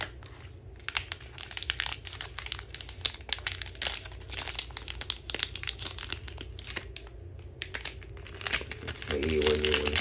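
Plastic packaging of vape pads for a CIGBAY 8000 device is opened with dense, close crinkling and tearing that comes in bursts, while a person talks over it.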